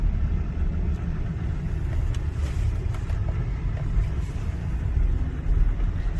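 Steady low engine rumble and road noise from a 2007 Honda Odyssey minivan with a 3.5-litre V6 while driving, continuous and close with no talk.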